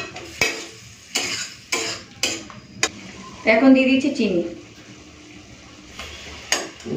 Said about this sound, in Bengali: একটু মিশিয়ে নিয়েছি